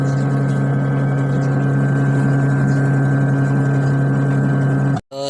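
A washing machine motor spins with a loud, steady hum and strong tonal drone, running evenly before cutting off abruptly near the end.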